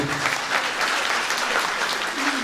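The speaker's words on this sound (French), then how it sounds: "Les tonnerres d'applaudissements, s'il vous plaît" Audience applause at a political gathering, a dense, steady wash of many hands clapping at full volume throughout, close and continuous with no talk.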